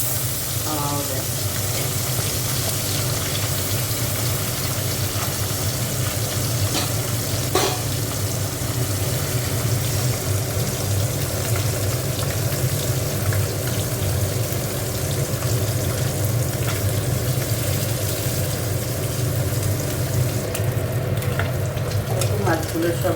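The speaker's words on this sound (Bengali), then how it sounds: "মাছগুলো সব ভাজা হয়ে গেছে" Small bele fish fry in oil in a pan with a loud, steady, dense sizzle and crackle that runs unbroken throughout, close by, with faint clinks of stirring.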